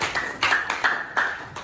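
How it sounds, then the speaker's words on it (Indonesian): A small classroom group claps for another group of students, a few hands beating in loose, uneven bursts of about five or six accented claps, close and fairly loud, with no talking. "tepuk tangan buat kelompok"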